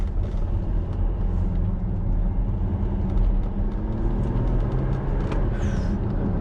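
A Porsche Macan S Diesel with a 3-litre diesel and PDK gearbox driven briskly through twisty roads, a steady low engine and road rumble with mild surges, continuous and moderately loud.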